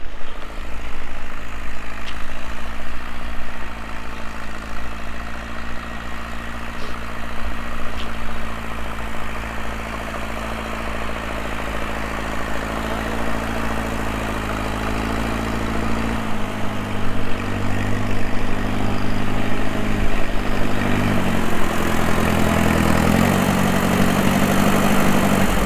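A 1941 Case SC antique tractor engine runs continuously nearby with a loud, steady, low, throbbing idle that shifts slightly in pitch partway through, without any speech over it.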